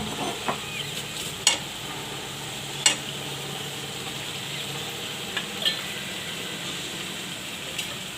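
Potatoes go into spiced oil with chutney and masala for a potato and capsicum shaak, giving a soft, even sizzle broken by a few sharp clinks of a spoon against the pan.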